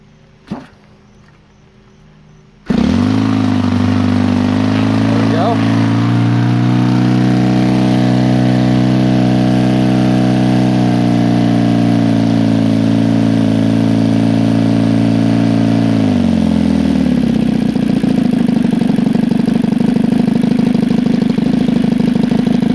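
A Kavan K50 gasoline engine, converted to run on 20:1 petrol with a CH Ignitions CDI, starts after a quiet pause and then runs loud and steady, its pitch dropping slightly near the end.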